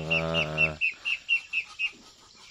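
A rapid run of high peeping calls from three-month-old ducks, then several evenly spaced chirps repeating alone at close range.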